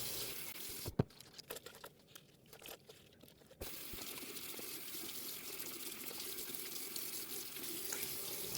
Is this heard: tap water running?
yes